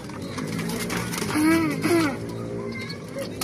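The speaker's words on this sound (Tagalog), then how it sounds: "Papalipad sila ng kalapati" A pigeon gives a couple of soft, low coos as pigeons are released to fly, amid a busy background with people talking nearby.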